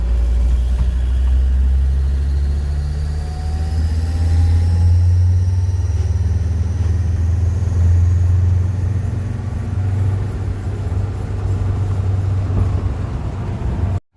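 A 2001 Land Rover Defender TD5 130 diesel engine with a leaking exhaust gasket idles close by, giving a steady low rumble with a constant broadband hiss and no talking.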